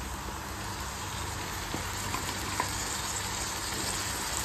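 Chicken masala with tomato puree fries in a pan over a gas flame, giving a steady, close, soft sizzle with a few faint stirring clicks and no talk.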